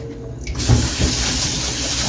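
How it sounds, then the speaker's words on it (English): A kitchen tap runs over cabbage being rinsed in a bowl, the water starting abruptly after a quiet moment and then pouring in a steady, close splashing rush. "I'm gonna turn off this water."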